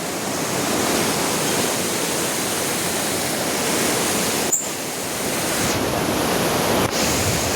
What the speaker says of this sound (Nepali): यो खोलो देख्न सक्नुहुन्छ